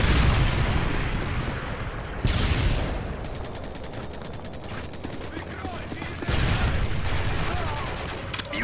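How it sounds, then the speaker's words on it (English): A Predator missile blast in Call of Duty Modern Warfare 3 on the Lockdown map during team deathmatch, heavy explosive booms layered with bursts of gunfire and rumbling in a loud, dense battle mix. "Predator missile inbound."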